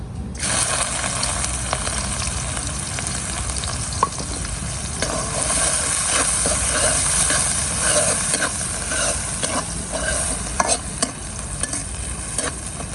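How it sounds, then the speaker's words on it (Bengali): Chopped onions frying in oil in a pan with dried chilli and bay leaf, a loud continuous sizzle with bubbling and occasional scraping stirs, steady for the whole stretch. "পেঁয়াজটা বাদামি রঙের করে ভেজে নিছি"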